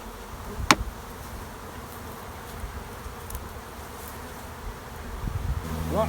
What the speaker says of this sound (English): A lot of these bees are staying here now or moving back because the brood's here